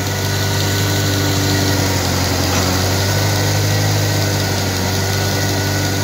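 A 2.3 Ford Ranger engine idling just after a cold start, a loud steady low hum with a continuous buzzing vibration and a faint rattle throughout, with no talking.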